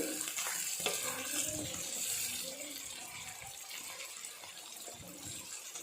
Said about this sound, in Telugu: ఇది ఒక 2 minutes ఫ్రై అవ్వాలి